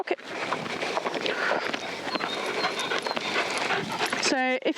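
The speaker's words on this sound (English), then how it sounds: "the dog's excited to see you, Sprocket" Sprocket the dog pants and whimpers excitedly up close, with busy movement and talk running through, then a short burst of a different sound at the very end.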